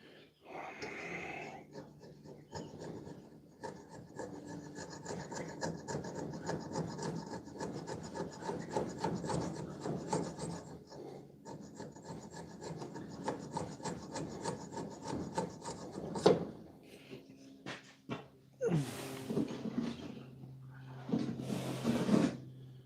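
Steady rasping strokes of a file and scraper working a dagger blade, continuous and close for most of the stretch, then breaking into sharper, scattered scrapes and knocks near the end.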